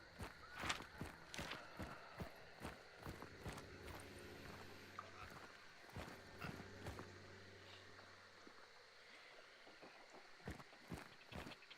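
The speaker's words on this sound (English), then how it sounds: "I heard that horse." Irregular hoof clip-clops of a horse sound at a distance, sharp clacks spaced unevenly over quiet ambient noise, with a faint voice now and then.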